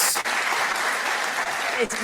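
A television studio audience at a political debate show applauds continuously, a dense, loud clapping roar, with a voice faintly audible underneath.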